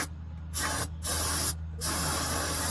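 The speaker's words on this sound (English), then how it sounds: "I like to use starting fluid." Starting fluid sprayed from an aerosol can onto the edge of a Chevy Silverado rear differential, three short hissing bursts separated by brief pauses, close and clear with no talking.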